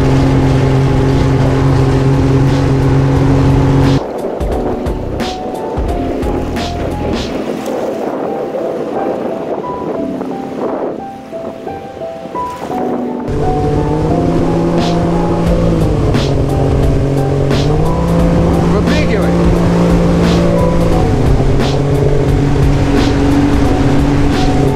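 A jet boat's engine runs loud and steady on a mountain river in Mongolia. A strong engine drone with wind buffeting dips for a few seconds in the middle, then returns at full, even power.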